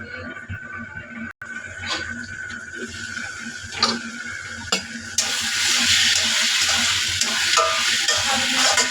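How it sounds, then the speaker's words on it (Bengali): Fish curry stirred in a pan with steady sizzling and scraping, the frying hiss growing louder and denser partway through. "ভালো করে নেড়ে চেড়ে ঢেকে 10 মিনিটের মতো জাল হলে আমার তরকারিটা হয়ে যাবে।"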